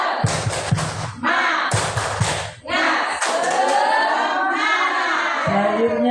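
A standing class of schoolchildren claps together in a patterned spirit clap, loud sharp bursts of hand claps and thumps in rhythmic groups, with shouted voices between the claps.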